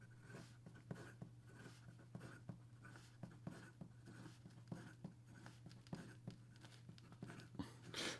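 Fast pen-on-paper writing with a Leonardo Momento Zero 2.0 Desert Night fountain pen, a quick run of soft scratchy strokes, close and quiet over a steady low hum.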